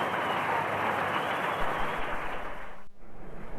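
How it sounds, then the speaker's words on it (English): A cricket crowd at a 1987 World Cup match applauding in a standing ovation, a steady broad wash of clapping and cheering heard from a distance, ending abruptly. "Standing ovation."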